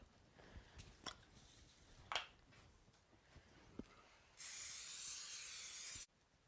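Cooking spray hisses steadily onto a pan for about two seconds after some soft clicks and handling noises, then stops abruptly.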